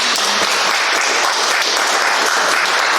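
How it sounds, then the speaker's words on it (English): Audience applause for local candidates at a candidates' forum in a Grange hall in Hot Springs, Montana: a steady, dense wash of clapping that stays loud and even throughout, with almost no talk. "Let's give these candidates a round of applause."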